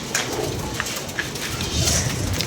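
Domestic pigeons make low, rolling coos amid rustling and background hiss, a close, continuous flock murmur without speech.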